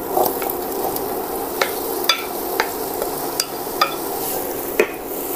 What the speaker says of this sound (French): je mets ma poêle à chauffer avec le beurre. Là, j'ajoute mes pommes.